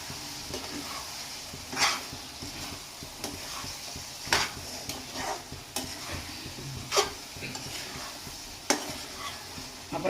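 Raw mango pieces cooking with chilli powder are stirred in a pan, with soft sizzling broken by several distinct scraping strokes of a spoon at irregular intervals.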